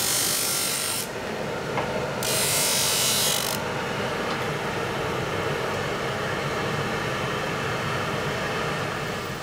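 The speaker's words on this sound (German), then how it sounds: "Danach wird erneut geschliffen." A buffalo horn eyeglass plate is sanded in a workshop with a continuous grinding rasp at moderate loudness. Two brief hissing bursts stand out near the start.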